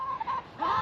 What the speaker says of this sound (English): Chickens seem to be pretty happy being with their extra freedom.